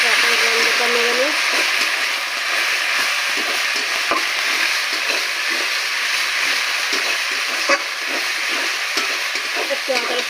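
Onions, ginger and garlic stir-fried in a pan for a country chicken curry, with a steady loud sizzle under scraping stirs and faint clinks throughout; no voice.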